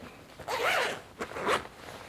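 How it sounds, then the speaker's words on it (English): A zipper on a fabric bag that looks like a shirt is drawn closed in two quick, close strokes, a brief rasp followed by a shorter second pull, heard alone. "You'd put all your stuff in there and zip it up."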